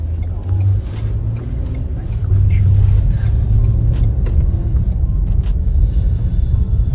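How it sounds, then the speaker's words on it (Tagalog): Cars passing on a busy road, a loud low rumble of engines and tyres rolling continuously close by. "hirap tumawid kapag marami sasakyan."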